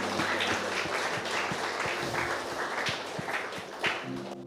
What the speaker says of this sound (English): Let's give a round of applause to Jesus.